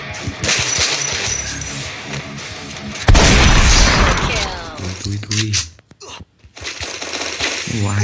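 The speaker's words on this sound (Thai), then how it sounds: "ยิงระเบิดโดยตัวเองเนี่ย" A grenade detonates in the Free Fire shooting game, a sudden loud boom that bursts out of ongoing gameplay noise and fades into scattered effects, with someone talking excitedly before and after.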